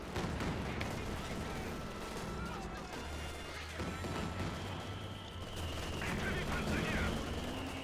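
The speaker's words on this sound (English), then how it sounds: "first howitzer's out on the field. And the artillery wars have begun" Howitzer artillery and battlefield gunfire in Company of Heroes 2 on the Oka River map, a dense, continuous clatter of shots and booms with a low rumble, under a commentator's voice.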